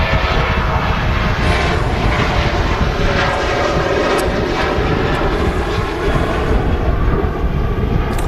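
A Ryanair airliner powers down the runway on its takeoff roll at Manchester Airport, bound for Mallorca, its jet engines a loud, constant, broadband roar heard close and alone.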